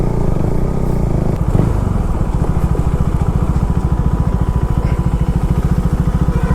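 Motorcycle ridden along a road on a trip toward the hills of North Sikkim, its engine a steady close, loud pulsing throb that holds through the whole stretch with no voices.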